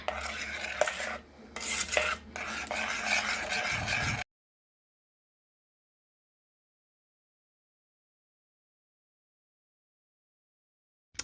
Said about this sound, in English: Stirring, stirring, stirring. Get it all incorporated.